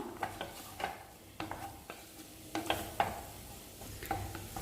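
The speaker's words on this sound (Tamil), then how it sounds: "அப்பக்கிப்போ கிளறி விட்டுருங்க, இல்லை லைட்டாக அடி பிடிச்சிரும்." Small tubers (sirukilangu) frying in a pan are stirred with a spoon, producing a series of distinct scraping clinks every half second or so over a soft, low sizzle.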